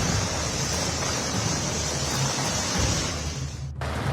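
Flood water rushes from overflowing dams in Udhampur, Jammu and Kashmir, after heavy rain, a dense continuous roar of torrent noise, loud and steady throughout with no voices.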